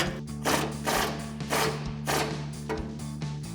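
A 21mm swivel socket on an extension ratchets down a shock bolt during a coil-over install on a 2019-2024 GMC Sierra 1500, giving a string of rhythmic ratchet clicking bursts over a steady low hum.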